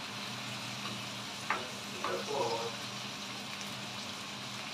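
Peperonata, a pepper stew, cooks in a pan with a soft, steady sizzle and a few light utensil clicks, all fairly quiet and close, with a faint voice in the background.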